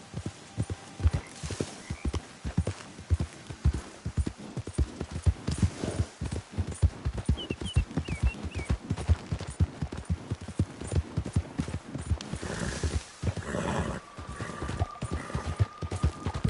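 A horse gallops in Red Dead Redemption 2, its hooves beating a steady, fast, loud rhythm throughout, with a brief whinny and faint game ambience mixed in.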